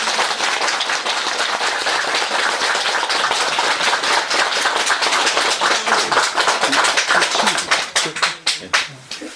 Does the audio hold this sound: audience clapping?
yes